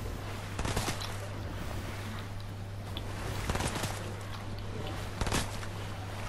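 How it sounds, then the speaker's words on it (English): Gunfire aimed at the player in a Fortnite match while swimming, heard as a few sharp bursts of shots spaced a couple of seconds apart over a steady hum and splashing water. "Oh no, I'm still getting shot at"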